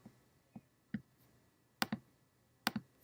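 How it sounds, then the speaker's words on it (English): Mouse clicks while text is formatted in Google Docs: sharp, close clicks, first single and spaced, then in quick double pairs, with no talking over them. "I'm just highlighting, I'm clicking the B and the U."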